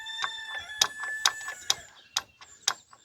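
A chicken clucks and crows nearby, with several loud bursts spaced about half a second apart and a rising, strained crowing tone running through them.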